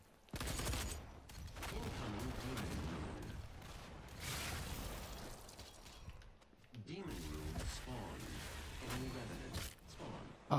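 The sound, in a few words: gunfire in the video game DOOM beta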